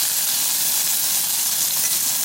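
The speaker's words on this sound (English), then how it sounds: "Ooh, Spam on sizzle." Spam sizzles steadily in hot oil in an anodized aluminum soup pot at a camp stove, a dense, loud, continuous frying hiss with no talking.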